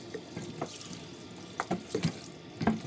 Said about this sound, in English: Get rid of the water.